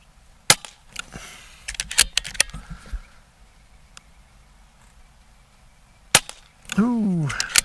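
An Umarex Notos .22 regulated micro-carbine PCP air rifle fires pellets, giving sharp cracks spaced irregularly through the stretch, with light handling clicks between shots and a short whistling sound near the end.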